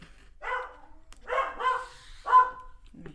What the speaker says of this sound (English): Crazy dogs.